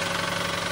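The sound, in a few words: Toyota Wigo engine started and idling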